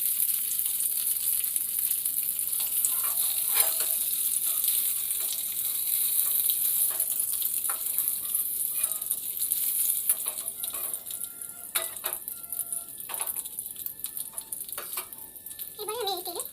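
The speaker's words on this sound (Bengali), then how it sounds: "দেখুন বন্ধুরা, পনিরগুলো আমার ভাজা হয়ে গেছে" Paneer cubes fry in hot oil in a pan as an ongoing sizzle. A bright hiss runs steadily throughout, with scattered pops and faint clinks of stirring and no talking.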